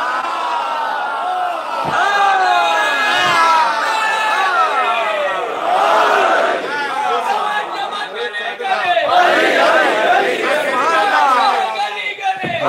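A large crowd at a majlis in Karbala chants religious slogans in loud, overlapping waves of voices, rising and falling together in repeated bursts.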